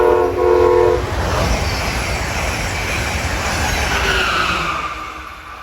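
An eastbound Amtrak train from Harrisburg to New York passes close and loud, with a brief horn blast at the start followed by a sustained roar of the train rushing by.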